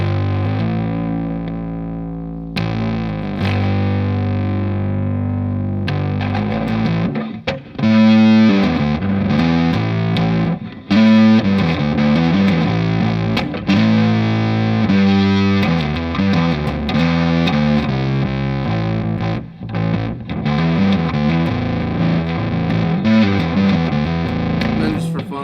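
Electric guitar played through an Earthquaker Devices Blumes overdrive pedal, giving a squishy, fuzz-like driven tone; sustained distorted chords and riffs ring loudly and continuously with a few brief pauses.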